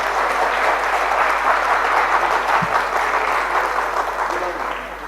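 A large audience claps steadily and warmly to welcome guests onto a stage at a public gathering, continuous applause filling the hall at an even level throughout.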